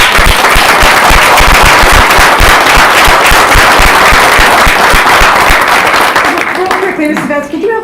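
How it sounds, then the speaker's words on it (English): An audience at an event claps loudly for teachers in a dense, sustained round of applause that fills the clip before thinning out near the end. "So give a round of applause to your teachers that are out there."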